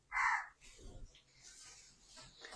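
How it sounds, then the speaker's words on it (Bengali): Crows caw outside near an air conditioner unit: one loud, close caw rings out first, followed by fainter, scattered calls and light background noise. "প্রতিদিন এখানে কাক ডাকে"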